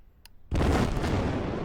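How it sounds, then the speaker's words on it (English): A sudden loud explosion effect bursts in after a brief near-silence and rolls on as a dense, booming rumble that stays heavy to the end with no speech. "Needs an explosion."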